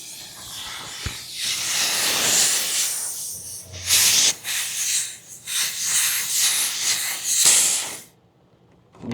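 Steady pressurized hiss escaping at a ductless mini-split line connection on a Tosot 36K multi-zone system, close and loud, surging and dipping in strength for about eight seconds before cutting off abruptly.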